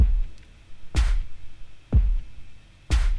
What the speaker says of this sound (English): Next, we have a snare on the threes.